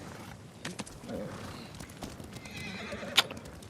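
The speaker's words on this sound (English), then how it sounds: "Let's get our horse back over here." Horse in Ghost of Tsushima trotting with soft clip-clopping hooves, then giving a sharp whinnying neigh near the end, fairly quiet with faint ambient background.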